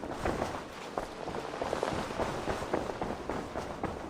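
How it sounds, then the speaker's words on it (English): Steady rain patters across surfaces in a video game, a dense continuous hiss with scattered drop impacts, moderately loud and with no talking. "Yeah, it is raining."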